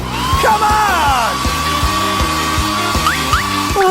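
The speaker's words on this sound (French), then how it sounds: "Je préfère utiliser un sèche-cheveux." A hair dryer blows steadily to thaw a frozen cartoon character, its close whirring hum running throughout under a rhythmic low thumping and rising and falling tonal sounds, with no talk over it.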